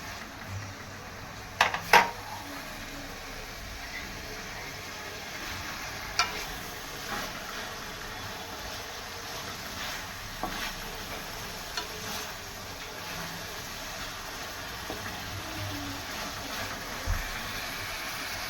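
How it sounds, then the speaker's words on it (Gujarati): Spinach and paneer gravy simmering in a pan, a soft, continuous bubbling sizzle throughout with a few sharp clinks of utensils against the pan. "એને થોડી વાર ચડવા દઈશું આપણે બરાબર."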